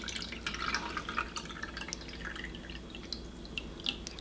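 Water poured into the small reservoir tower of a Gryphon studio glass grinder, heard as a steady close trickle with scattered splashy drips over a constant low hum.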